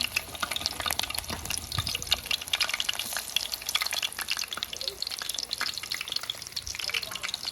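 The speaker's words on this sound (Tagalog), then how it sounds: "Prito tayo ng talong." Oil sizzles and crackles steadily as eggplant fries in a pan, with occasional clinks and stirring noises, close and continuous.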